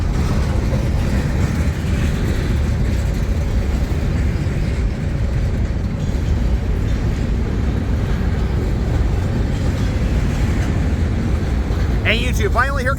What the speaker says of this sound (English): comes the rear DBU, bringing up the rear of this train